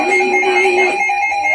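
An electronic alert buzzer sounds during a severe thunderstorm weather report for Cass and St. Joseph counties, Michigan, as a steady multi-tone whine held for about a second and a half, then thinning out.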